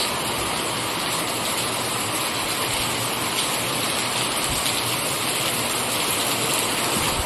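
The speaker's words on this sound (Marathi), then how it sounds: "पूर्णीकडे पाऊस आणि कसा वाजतोय पाऊस" Steady, dense rain pouring down, a continuous broadband hiss with no breaks, close and fairly loud throughout.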